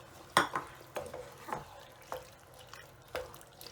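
Potatoes and water go into a pot of simmering meat-pie filling, bringing a string of wet splashes, stirring clatters and soft sizzling, repeated at irregular intervals close by.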